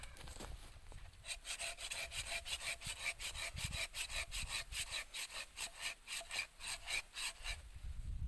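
A hand saw cuts around a wooden branch being shaped into a cylindrical wooden mallet, with fast, steady rasping back-and-forth strokes, close and clear with no talking.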